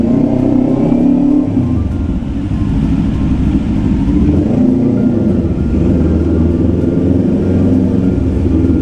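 A big bike's motorcycle engine revs in an enclosed mall parking area, a loud, continuous, booming rumble that swells and eases slightly, with no talking over it.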